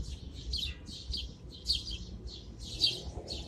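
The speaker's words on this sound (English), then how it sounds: "There we go, lots and lots and lots of birds." Birds chirping in an urban city, bright short tweets repeating in quick bursts, fairly faint over a low background rumble of city noise.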